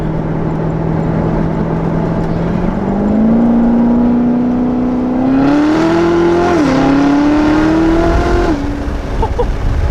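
A modded Corvette in a racing video game roars loudly and alone, its engine note holding steady and then climbing through several rising revs and gear shifts over about ten seconds.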